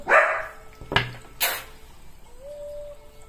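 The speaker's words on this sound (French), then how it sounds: "Excusez-moi pour mon chien." A few sharp dog barks, fairly close, separated by short pauses, with a faint whine near the end.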